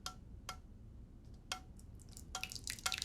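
Reduced orange juice, thickened by its pectin, is poured from a pan into a bowl, giving a quiet series of separate wet drips and small splashes, sparse at first and then coming more quickly.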